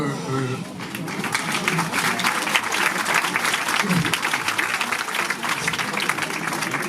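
Steady applause from a theatre audience at a Valentine's Day matinée fills the room, dense and sustained, with many hands clapping at even loudness throughout.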